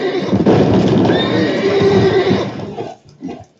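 A horse whinnies loudly and close by in The Witcher 3, one long neigh with a rising squeal that fades out, followed by a couple of softer snorting breaths.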